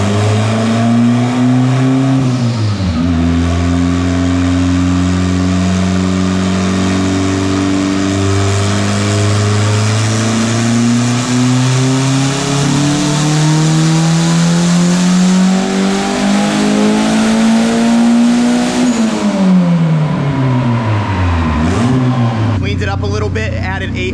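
A turbocharged Honda car engine on a cheap $120 turbo revs loud and close, rising in pitch steadily through a long pull, dropping, then climbing again, with a short burst of higher revs at the end.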